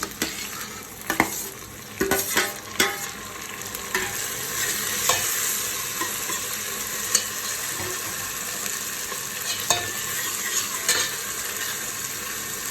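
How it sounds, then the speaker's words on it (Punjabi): Tomatoes and green chillies dropped into a hot tempering, a loud, continuous sizzle and frying with sharp clatters and scrapes of a spoon stirring in the pan, close up. "ਹੁਣ ਆਪਾਂ ਇਹਦੇ ਵਿੱਚ ਟਮਾਟਰ ਅਤੇ ਹਰੀ ਮਿਰਚ ਪਾ ਦੇਵਾਂਗੇ"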